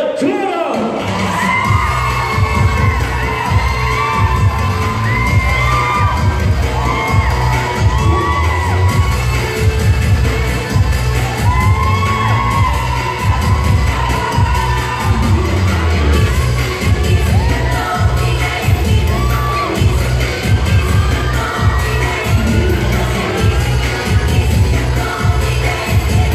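An audience at the Mr. Thailand 2018 bodybuilding final, women's model physique under 160 cm, cheers and shouts continuously, with whoops, yells and scattered bangs forming a loud, dense crowd roar throughout.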